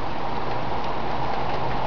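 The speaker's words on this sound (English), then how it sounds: "Oh, finally, we got some rain." Sudden heavy rain pours down in a thunderstorm right after a dust storm, a dense, steady hiss of drops pounding surfaces close by, continuous and unbroken with no voices.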